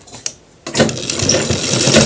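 Sewing machine stitching a shirt collar: a short click, a pause, then a loud close whirring run of rapid stitching that continues steadily to the end.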